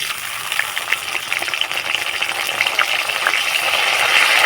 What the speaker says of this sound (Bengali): তেলের সঙ্গে টমেটোটা হালকা ভেজে নেব